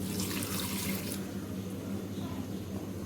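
Water poured from a tap into a pressure cooker pot of onion, tomato and ginger-garlic masala, a steady rushing splash for about a second that settles into a softer continuous trickle and hiss, close and moderate.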